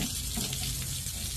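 Steady water runs continuously while being fed into the lower unit of an old 1977 Zephyr saildrive during a rebuild, a close, even, unbroken splashing flow with no talk over it.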